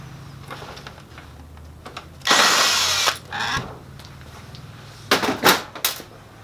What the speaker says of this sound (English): Remove one screw, and remove the side metal guide.